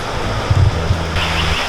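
Creek water rushing past a gold sluice box outdoors, a steady close wash of flowing water with a low rumbling churn that swells briefly partway through.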